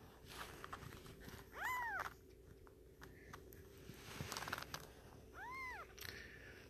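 A very young kitten, eyes just opened, gives two thin rising-and-falling meows a few seconds apart, faint and close, amid small rustling and handling sounds.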